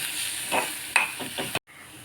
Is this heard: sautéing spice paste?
yes